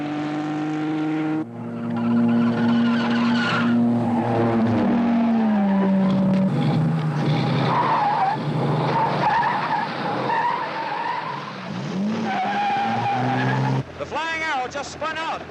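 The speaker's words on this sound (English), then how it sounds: "Spun out, but made a beautiful recovery and continued with only a few seconds lost." A race car on a twisting road skids and spins out in a 1954 action film, with loud sustained tire squeal sweeping in pitch, engine roar behind it, and voices heard over the scene.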